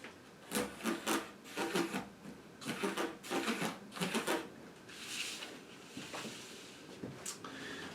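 A pen or marker scrapes along a ruler, marking straight lines on an oaktag trouser sloper pattern, in repeated close scratchy strokes with short pauses in between.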